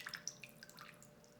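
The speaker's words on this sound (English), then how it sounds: "let the water drain through." Water draining through a houseplant pot indoors, dripping in a quick run of small, faint drops and trickles that thin out over a second or so, with no voices.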